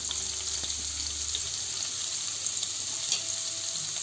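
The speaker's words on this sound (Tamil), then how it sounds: "இதில் வந்து நம்ம வெஜிடபிள்ஸை வந்து ஃப்ரை பண்ணி எடுத்துக்குவோம்" Vegetables frying in ordinary cooking oil over a high flame: a dense, even hiss of sizzling with occasional soft pops, steady and near throughout, with no voices.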